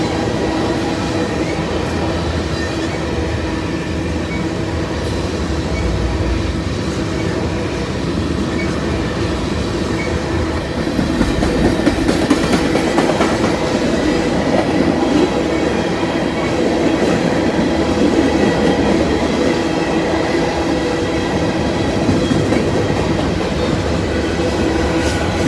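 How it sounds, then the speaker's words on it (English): A mixed manifest freight train rumbles past steadily and fairly close on the former B&O line, a continuous rolling roar of railcars with faint wheel clatter, loudening slightly midway, with no voices. "Not a unit grain train. Looks like it's going to be a mixed manifest."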